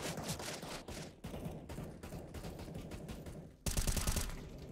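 Rapid automatic gunfire from a video game rattles in dense bursts with short gaps, ending in a louder, closer stretch of fire.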